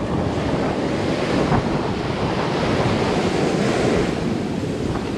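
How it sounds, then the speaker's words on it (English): Ocean waves break and wash onto the beach at Playa del Carmen, Mexico, in a constant roaring surf with wind buffeting the microphone and no voices. "Look at these waves."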